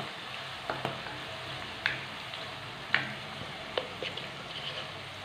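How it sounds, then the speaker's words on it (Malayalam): Spice powders including turmeric being stirred into hot lemon pickle in a clay pot, a faint bubbling sizzle with several sharp clicks and taps of a spoon against the pot. "അതിനുശേഷം പെട്ടെന്ന് തന്നെ ഒന്ന് ഇളക്കി കൊടുക്കുക."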